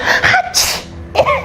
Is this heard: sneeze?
yes